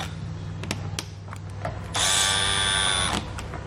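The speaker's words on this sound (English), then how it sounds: "We're going to use a Phillips head to remove those." Screwdriver work on a vehicle's rear fascia below the lift gate during a trailer hitch install: scattered clicks and taps, then a steady mechanical whir of about a second, ending in more light clicks.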